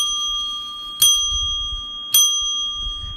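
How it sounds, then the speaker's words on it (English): Small desk bell rung during a live stream, struck twice about a second apart, each bright ding ringing on with a long clear sustained tone over faint background noise. "That's my little bell ringer there for whenever I get a super chat or a super emoji that comes in"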